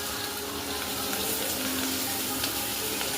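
Garlic, carrot, tomato and onion fry in hot oil with asafoetida in a pan for khichdi, making a loud, steady, close sizzle that runs throughout with no talking.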